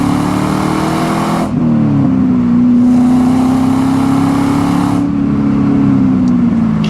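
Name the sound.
2001 Pontiac WS6 accelerating hard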